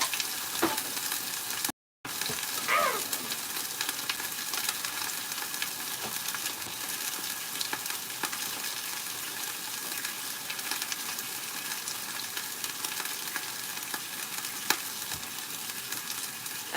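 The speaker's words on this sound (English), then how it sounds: "Oh, you hear that sizzle?" Raw meat fries in a hot pan with a constant, even sizzle and crackle that stays close and fairly loud, with occasional faint stirring scrapes.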